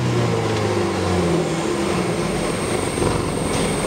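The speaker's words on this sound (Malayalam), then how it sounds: "അപ്പം നമുക്ക് ഇത് സ്റ്റാർട്ട് ചെയ്യുന്ന ഒരു സൗണ്ട് നമുക്കൊന്ന് കേട്ടു നോക്കാം" Land Rover Defender with a V4 engine idling close by: a steady, throaty low rumble with droning harmonics, loud and even throughout, with no voices.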